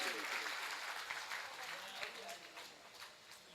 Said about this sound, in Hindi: एक बार तालियां बजाओ इस देवी के लिए।